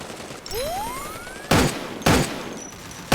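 Video game gunfire from a long-range shooter: two sharp loud shots about half a second apart, with a rising whistling tone before them and another shot starting at the very end.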